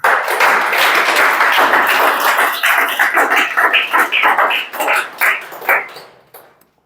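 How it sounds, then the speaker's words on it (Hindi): A class of students claps hands: a dense burst of applause that thins into scattered separate claps and then stops. "ताली बजा दो।"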